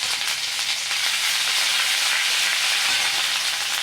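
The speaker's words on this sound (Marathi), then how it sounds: "शेंगदाणे शेंगदाणे छान लाल तळून घ्यायचे" Peanuts fry in hot oil in a kadhai, producing a steady, loud, dense sizzle that stays constant throughout with no talking.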